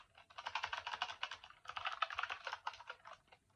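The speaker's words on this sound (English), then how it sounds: "Start typing something." Quick continuous typing on a Naccon CL-750 mechanical keyboard, close and clicky keystrokes in two bursts with a brief pause between.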